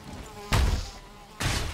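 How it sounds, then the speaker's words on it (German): A mosquito buzzes in the Valheim video game, two loud droning bursts rising close to the ear against a quiet in-game background. "Mücke."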